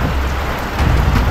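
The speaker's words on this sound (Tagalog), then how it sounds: "ngayong tanghali na to ay malakas ang ulan" Heavy midday rain pours down in a dense, loud, continuous hiss of drops hitting surfaces close by, with no talking.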